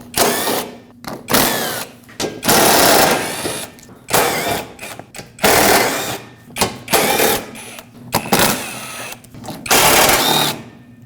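Power tool spinning out 10mm fasteners under a 2016 Scion iA, a series of loud, close whirring bursts in quick succession with brief gaps between them.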